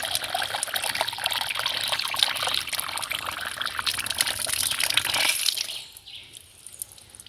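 Spring water collected in a catchment pours steadily from a pipe, a dense, close hissing splash that runs for several seconds before cutting off abruptly into near silence.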